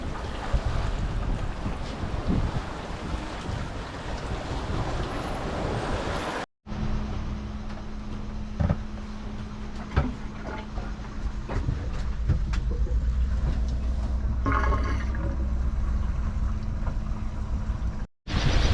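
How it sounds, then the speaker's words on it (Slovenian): A cruising sailboat running under sail alone near Papua New Guinea, with steady wind rushing across the microphone and water washing along the hull throughout, broken by a brief gap midway. "Tako da zdaj zopet jadramo, ni treba na motor."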